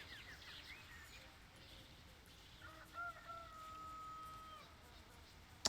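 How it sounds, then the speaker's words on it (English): A rooster crows faintly in the distance in the Baldur's Gate II video game, one drawn-out call over a quiet ambient background, followed by a sharp click at the end. "I heard a rooster that time."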